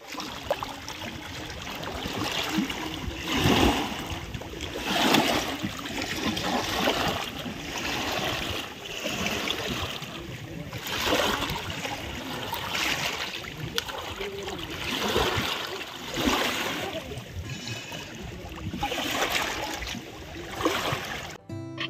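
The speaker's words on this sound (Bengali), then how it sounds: "জলটা যে আসছে, এসে পরে যে পাথরে মিশছে, এখানের আওয়াজটা দেখুন একবার।" Water pouring onto rocks at Maithon Dam in Jharkhand, a continuous rushing splash that swells and eases in slow waves, loud and close outdoors with no voices.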